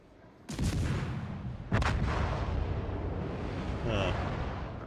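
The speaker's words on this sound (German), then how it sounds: "Einmal noch auf die Emden schießen." Naval artillery fires at the ship Emden in World of Warships: two heavy booming salvos land close together, followed by a sustained rumbling roar of in-game battle.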